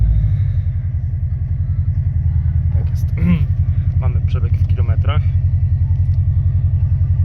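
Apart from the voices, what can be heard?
Subaru Impreza WRX STI engine running after start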